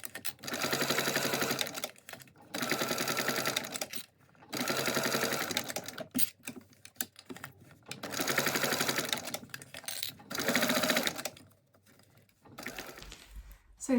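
A sewing machine bastes a cotton front panel onto foam for a mini backpack, running in five loud, rapid stitching bursts of about two seconds each with short pauses between them.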